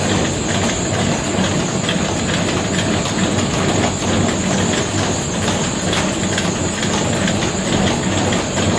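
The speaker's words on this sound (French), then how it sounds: "c'est le seul moteur électrique qui nous permet de faire tourner les meules et les bluteries et tout le système de nettoyage" An electric motor drives the millstones, sifters and cleaning system of a French flour mill, a dense, steady mechanical rumble and clatter with a continuous whine, loud and close, without pauses.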